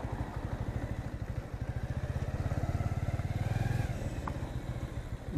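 A motorcycle rides along a road on a highway trip in India, its engine a steady, close, throbbing drone that builds slightly and then eases off, with no talk.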